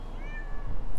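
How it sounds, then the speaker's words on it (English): A big friendly cat in heat gives one rising-and-falling meow, clear and close over a steady background hum. "is a big cat."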